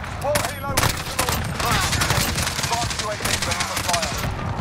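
Rapid bursts of FAMAS rifle fire ring out in Modern Warfare multiplayer, loud and close, with overlapping shots, scattered distant gunfire and talk over the action.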